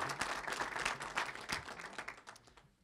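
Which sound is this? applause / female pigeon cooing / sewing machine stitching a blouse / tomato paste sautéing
applause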